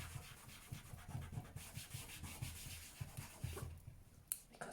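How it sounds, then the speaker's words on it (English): A cloth rubs back and forth across a craft mat in quick rhythmic strokes, close and soft, for several seconds. "I'm just going to wipe my mat."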